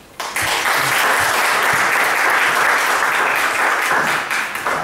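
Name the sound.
applause for children reading Bible verses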